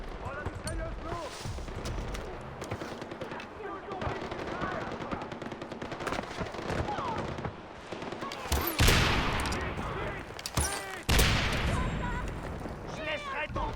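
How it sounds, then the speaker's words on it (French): A heavy machine gun fires in the Far Cry 4 video game in dense, sustained bursts along with booming blasts, loud and chaotic, while voices talk over the action. "Oh, la mitrailleuse lourde."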